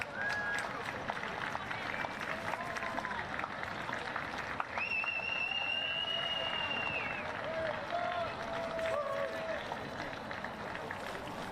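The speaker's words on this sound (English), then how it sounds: "Just give them one more cheer, our Women's 35's winners" A crowd at a touch rugby national championship applauds and cheers the women's over-35 winners, a steady wash of clapping heard from a distance, with a voice speaking over it and a few shrill whistles.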